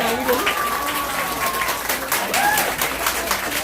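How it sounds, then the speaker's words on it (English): A crowd at a Glenn Youngkin campaign rally for Virginia governor applauds steadily throughout, with cheering voices and a few whoops rising over the clapping. "Great round of applause for the next governor."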